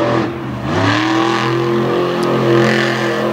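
The Barely Tame monster truck, with Schroeder torsion bars, doing donuts on West Virginia clay at a Beckley event, its engine a loud, sustained roar that swells and surges throughout.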